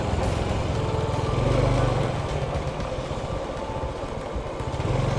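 A motorcycle engine hums steadily as it rides through town streets, a continuous near drone with a slight swell partway through.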